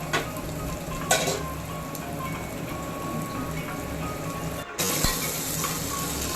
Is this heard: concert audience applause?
no